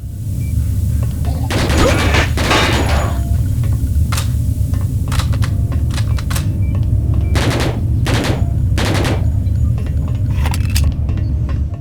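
AK rifle fire in the game Hellforces, with several loud bursts of rapid shots cutting through a constant heavy droning background, close and forceful.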